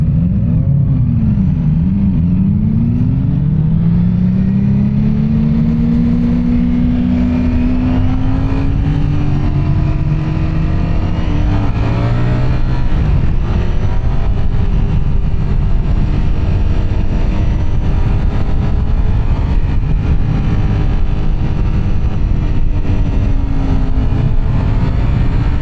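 A 2025 Ducati Streetfighter V4S ridden on a demo ride along a boulevard, loud engine noise heard up close with audible revs climbing and shifting through gears, then a steady roar with wind buffeting as the bike cruises on.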